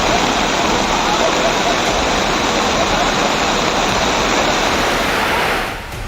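Loud, steady roar of rushing floodwater in Rajgarh district, Madhya Pradesh, a dense continuous wash of noise that holds constant before easing slightly at the very end.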